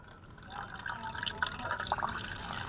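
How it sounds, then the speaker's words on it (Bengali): Plain water poured from a bowl into an egg mixture, a soft close trickle and splash that builds slightly, quiet and without talk. "এরপরে আমি নিয়েছি এখানে একটা বাটির হাফ বাটি থেকে একটু নর্মাল জল, তো এই জলটার মধ্যে নিয়ে নিচ্ছি।"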